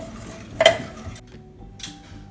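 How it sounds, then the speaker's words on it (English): Sugar and water being whisked together for simple syrup in a kitchen, a brief clinking stir with a sharp utensil knock near the start and a lighter tap later, close and fairly quiet. "And then we're just gonna whisk that until it's all combined."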